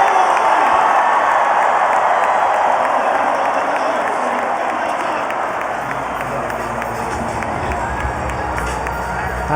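Stadium crowd roaring and cheering at a men's rugby match between Hong Kong China and China, a loud sustained wash of noise with scattered whoops and clapping, commentary faintly underneath.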